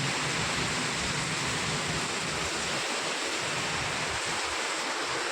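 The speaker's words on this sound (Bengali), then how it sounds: "কত জোরে ঝড় বৃষ্টিটা হচ্ছে দেখো" Heavy storm rain pouring down in a continuous, dense roar of broadband noise, loud and unbroken throughout with no voices.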